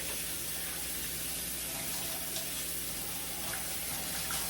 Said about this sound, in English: Wash some hands real good, thoroughly.